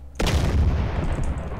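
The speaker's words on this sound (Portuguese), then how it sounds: "Ih, deu explosão." A sudden, heavy boom of an in-game explosion in MTA DayZ bursts in, followed by a long rumbling roar that slowly fades.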